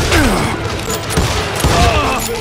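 Gunshots ring out in a western shooter game, Call of Juarez: Gunslinger, as several loud cracks with echoing booms and clattering mechanical sounds, while voices shout in the background.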